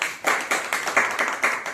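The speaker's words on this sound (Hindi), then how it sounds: "एक जोरदार ताली बजाइए" Church congregation clapping together during a Wednesday service, a series of about six sharp, fairly loud bursts of claps in a steady rhythm, with no talking over them.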